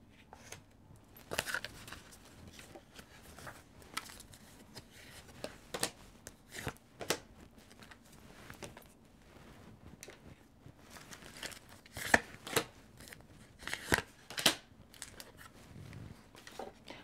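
Tarot card decks being shuffled by hand: quiet, irregular bursts of papery riffling and crinkling spread across the stretch, with a few sharper snaps and no talking.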